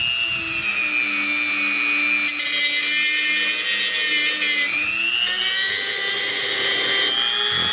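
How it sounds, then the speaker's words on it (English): A Dremel rotary tool cuts slots into the plastic of an electric bike conversion battery mount. It gives a loud, steady high-pitched whine that dips and rises slightly as the bit bites, running continuously with no voices. "so I have a Dremel tool here."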